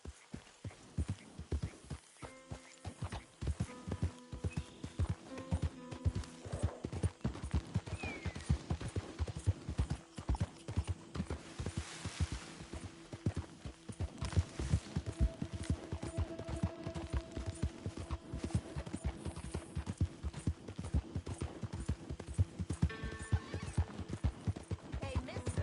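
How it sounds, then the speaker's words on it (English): Horse hooves clip-clop in a fast, steady rhythm through Red Dead Redemption 2, with a loud whinny and occasional distant gunshots over an outdoor game soundscape. "that's one nice-looking horse you got there"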